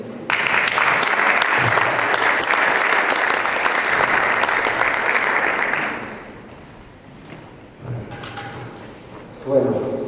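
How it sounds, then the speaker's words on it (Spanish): An audience at a conference applauds after a senator is introduced, with steady, dense clapping for about six seconds that then fades into quieter room noise and scattered movement. "Un aplauso."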